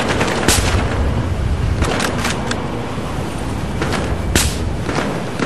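Loud, dense gunfire in Battlefield Hardline, with rapid shots and a few sharp bursts over a constant noisy rumble, no voices heard.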